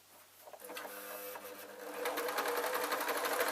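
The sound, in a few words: sewing machine stitching rag doll fabric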